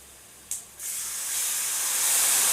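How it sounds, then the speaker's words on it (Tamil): Lemon juice from two lemons poured into hot oil in a pan with the stove switched off, giving a sudden loud sizzle and spray-like hiss that swells and keeps building, with no talking. "அடுப்பை ஆஃப் பண்ணிவிட்டு நம்ம லெமன் ஜூஸ் ஊற்றிக்கலாம்."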